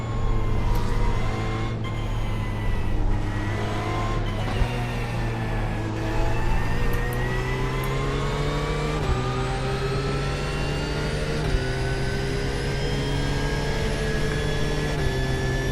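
A GT3 race car engine in the iRacing sim drones loudly and steadily, its pitch stepping up through gear changes as the car accelerates on an oval, with no voices.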